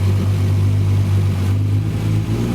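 A Nissan Z engine idles at its first start after an Aeromotive 340 fuel pump install, a loud, close, steady low rumble that holds even throughout, not yet tuned, with no talk.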